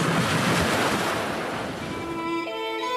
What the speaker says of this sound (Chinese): 苗栗竹南海边的龙凤港